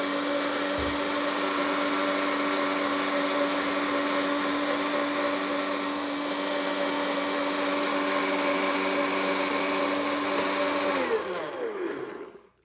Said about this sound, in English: Now we're going to puree it.